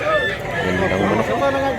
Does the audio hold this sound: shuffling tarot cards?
no